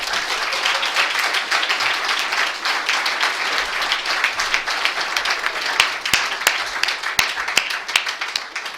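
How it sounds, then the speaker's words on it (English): An audience at an AA meeting applauds in a sustained, dense round of clapping that stays steady throughout, with a few sharper individual claps standing out near the end. "let's give another big round of applause for Craig."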